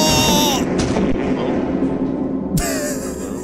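Explosion in the Lethal Company video game: a loud, booming blast with a heavy rumbling tail that rolls on for several seconds, with a crisp burst of higher-pitched game noise at the start and again near the end.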